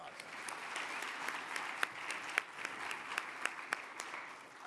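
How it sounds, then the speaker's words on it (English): Moderate applause from the audience at a plenary session of a mayors' winter meeting, steady clapping with a few sharp, close individual claps standing out. "Everybody, let's give her a round of applause."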